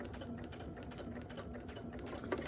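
A sewing machine fitted with a zipper foot stitches slowly along a zipper on a vinyl bag, giving a steady, close mechanical hum with a faint rhythmic needle clatter and no talk.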